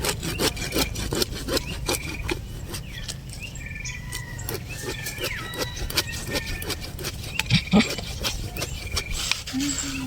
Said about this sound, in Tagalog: Dapat matagas yung lagari mo yung maliit.